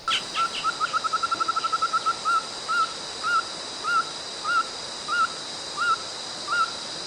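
A loud bird calling from an inflated pink throat sac in the Sinharaja forest of Sri Lanka: a fast run of sharp repeated notes that slows into evenly spaced single calls, clear and close over a high insect hum.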